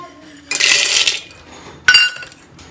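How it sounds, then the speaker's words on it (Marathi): Peanuts and other ingredients are tipped into a metal mixer jar, making two loud, close rattling pours, the first lasting about half a second longer than the sharper second, with quiet in between. "आणि आता मिक्सरच्या भांड्यामध्ये डायरेक्ट आपण ह्याच्यामध्ये टाकतोय"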